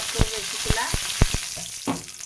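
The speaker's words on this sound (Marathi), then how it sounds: "कांदा टाकून घेते कढीपाला टाकला अगोदर" Curry leaves and chopped onion sizzle in hot oil in a kadhai on a gas stove, a loud, steady frying hiss punctuated by sharp clacks of stirring.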